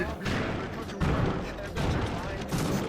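A PlayStation 3 tech demo explosion at a 2005 E3 presentation rumbles in a series of loud, bursting blasts and thuds that roll and repeat, with crowd or presenter noise mixed underneath.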